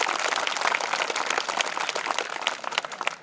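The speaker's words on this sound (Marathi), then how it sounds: "कल्पनाताईंसाठी सुद्धा एकदा जोरदार टाळ्या" Crowd at a school retirement ceremony claps loudly in honour of Kalpanatai, a dense burst of hands close by that thins slightly toward the end.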